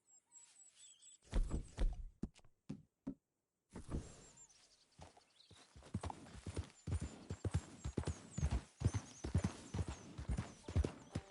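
A horse's hooves clop in a run of irregular knocks that start sparse with brief silences, then grow denser and louder into a busy walking rhythm near at hand. There is no talking.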